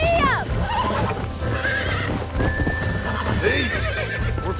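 In the Red Dead Redemption video game, a horse whinnies loudly up front over steady clip-clopping hooves while someone talks over the sounds.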